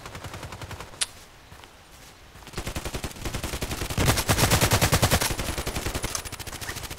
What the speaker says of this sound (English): Sniper action taking place here.